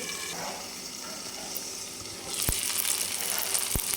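Drumstick pods steam in a lidded pan over a low gas flame, giving a soft steady hiss that swells louder midway, with two sharp clicks against it.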